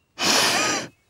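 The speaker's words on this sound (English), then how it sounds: "breathing." A cartoon teenage girl takes one deep, calming breath, a loud, close, breathy inhale lasting under a second, followed by the start of another breath.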